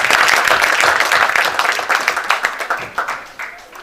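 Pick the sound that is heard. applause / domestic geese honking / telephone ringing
applause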